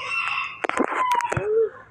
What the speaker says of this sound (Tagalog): Ano ba yung manok ka? Nakikichismis ka pa sa amin?